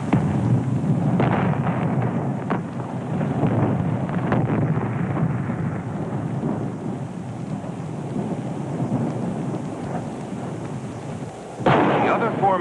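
A Thor IRBM missile fails spectacularly during a 1959 test, heard as a loud continuous rumbling roar with crackling bursts and a fresh burst near the end.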